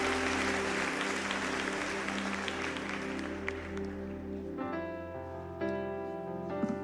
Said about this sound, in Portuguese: Bota a salva de palmas para Jesus